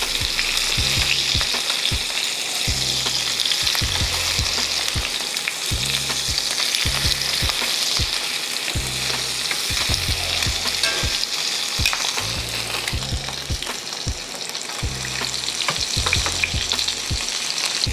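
Salmon fillets searing in hot oil in a pan, a loud, dense, continuous sizzle and crackle heard close up with no one talking, over low rhythmic thumping in the background.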